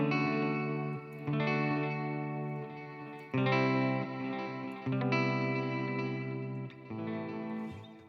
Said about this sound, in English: Let's keep on going with an ambient wash